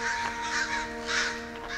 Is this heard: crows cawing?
yes